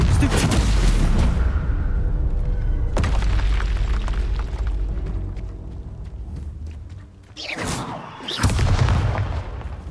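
Confringo blasting spell explosions in Hogwarts Legacy, a heavy booming blast followed by rumbling debris, a sharp second hit, and another loud burst near the end.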